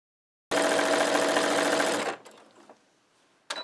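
A sewing machine stitches a chenille shamrock pillow, a loud fast mechanical whirr that starts abruptly, runs about a second and a half, then stops, followed by faint handling noises and another brief burst.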